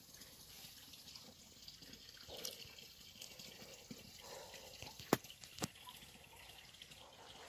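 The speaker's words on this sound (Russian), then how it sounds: "И уходит водичка." Water from a spring trickles and gurgles steadily outdoors, low and faint, with a couple of brief sharp clicks partway through.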